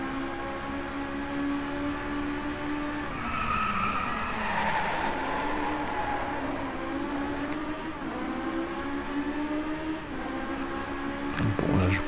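A powerful car spins out of control in the Driveclub racing game, tyres screeching in long wavering squeals over a steady engine roar that falls and climbs again, loud and continuous.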